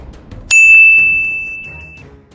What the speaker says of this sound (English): hit that notification bell so you don't miss the next chapter of history